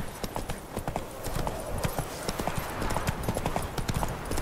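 Roach, a horse in The Witcher 3, gallops in a steady rapid clip-clop of hooves on hard ground, close and continuous, with a brief voice in the background.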